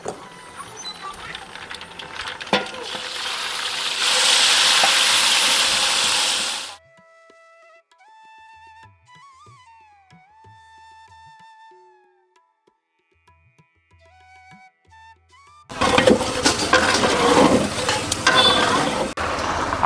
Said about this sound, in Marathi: मस्त कसा आवाज आला बा तडक्याचा आवाज, असा आवाज आला पाहिजे फोडणीला.